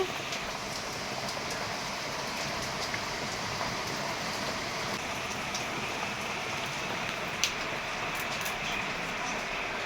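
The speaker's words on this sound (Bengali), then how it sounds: "এই যে কত বৃষ্টি হচ্ছে বাইরে।" Heavy rain falls steadily outside, a dense, even hiss that holds at one level for the whole stretch, with no voices over it.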